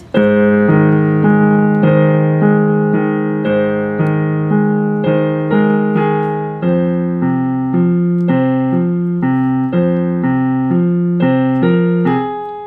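Piano plays a song at a slow tempo, clear sustained chords in a steady, unhurried rhythm, each new chord struck and left ringing, loud and close with no talking.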